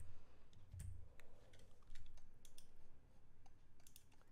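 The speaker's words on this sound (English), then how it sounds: "So let's just type in any answer." Quiet, close keystrokes on a computer keyboard as an answer is typed, a brisk irregular patter of light clicks with a soft thump near the start and no talking.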